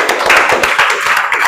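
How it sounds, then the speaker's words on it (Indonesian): A small group in a mathematics class claps together, giving a short, loud burst of quick, rhythmic hand claps close by. "Tepuk tangan buat kita semua"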